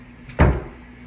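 Door inside a townhome closing with a single soft thud and brief rattle, close by against a quiet room.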